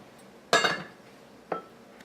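A lid clanks onto a metal pot of quinoa on the stove, a sharp clatter with ringing, followed by a second lighter clink a moment later, close and otherwise quiet.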